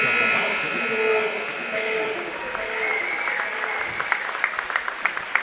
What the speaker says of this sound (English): Got a nice crowd here cheering on two really good basketball teams